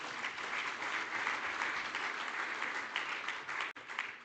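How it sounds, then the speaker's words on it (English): A conference audience at the Namibia Oil and Gas Conference 2025 claps for Namibia, a thick, steady burst of applause from many hands that holds evenly before a brief dropout and resumes. "Do we want to clap for Namibia?"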